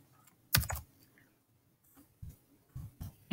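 Several sharp computer keyboard keystrokes in a short burst, then a pause and a few more isolated taps, close and fairly quiet, with no talking.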